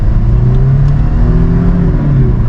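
A 2011 Lexus IS250 V6 with a newly installed intake revs on the road, a loud close engine drone whose pitch swells and eases steadily with throttle, with no voices.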